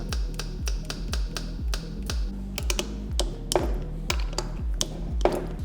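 Sharp mechanical clicks of an automatic transmission solenoid repeat in a fairly steady rhythm, about two per second, close and distinct against a low hum.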